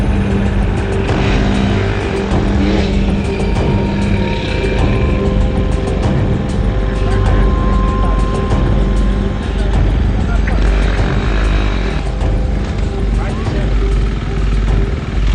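A factory-sponsored KTM racing motorcycle at the Kameel 200 off-road race, its engine buzzing and revving continuously and fairly loud beneath a commentator speaking over it.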